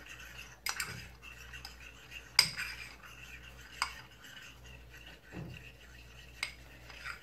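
A spoon stirs starch into cold rice water in a bowl, with sparse clinks and scrapes against the dish between quiet pauses, faint and close.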